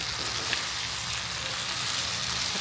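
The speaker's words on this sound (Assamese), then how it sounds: "এতিয়া এনেকৈ ভাজি থাকিম অলপ সময়, 3 মিনিটমান সময় ভাজিব লাগিব।" Chicken meat fries in hot oil with a dense, continuous crackling sizzle, close and steady throughout, with no talk.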